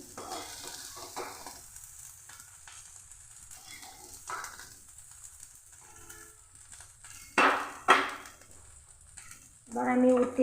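Taro (arum) pieces fry in hot oil with a steady sizzle, broken by a few loud clattering scrapes as they are stirred in the pan.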